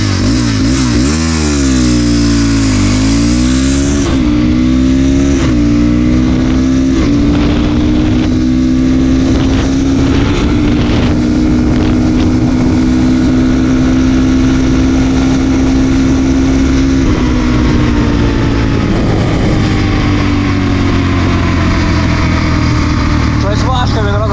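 A Kovi 250 Advance motorcycle with a ported 172FMM engine accelerates hard from second gear, its loud engine note climbing steadily in pitch, heard close up under heavy wind buffeting.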